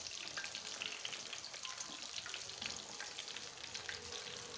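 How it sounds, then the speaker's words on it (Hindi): Chicken pieces frying in oil in a kadhai give off a continuous, even sizzle with crackling spatter, fairly soft and steady throughout with no speech. "साइड चेंज कर देंगे ताकि ये दोनों साइड से इक्वली फ्राई हो जाए और अच्छे से पक जाए।"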